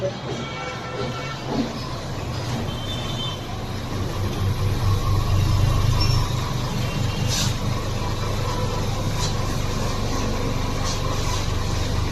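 A moving train heard from inside the carriage: a continuous low rumble that swells midway, with faint rattles.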